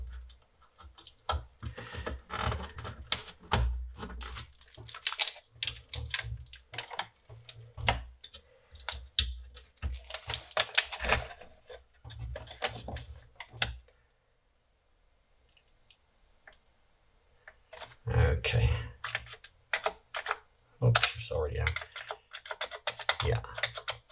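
Someone types on an old Commodore 64 keyboard from a flea market: bursts of close, rapid plastic key clicks, a quiet pause in the middle, then more fast typing.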